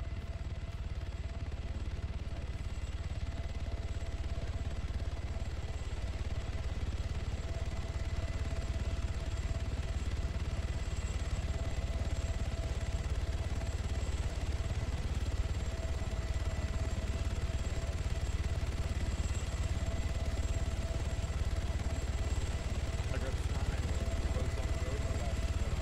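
A helicopter in the ShackTac Arma military game holds a steady, loud engine and rotor drone for the whole stretch, with no breaks and no voices over it.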